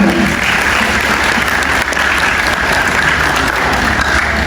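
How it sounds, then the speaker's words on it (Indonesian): Loud audience applause in a hall during a community discussion event in Batam, a dense, sustained roar of clapping from a large crowd that holds steady for the whole stretch. "Tepuk tangan yang kuat untuk kota Batam."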